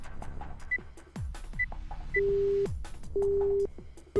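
Phone busy signal in the Zero Escape: Virtue's Last Reward video game, two long steady beep tones following short dial-key bleeps and clicks, loud and close with no speech.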